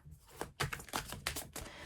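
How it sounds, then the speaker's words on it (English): A quick run of crisp, papery flicks and taps as a deck of tarot cards is shuffled close by, in short irregular bursts with no talking. "I'll just shuffle it quick."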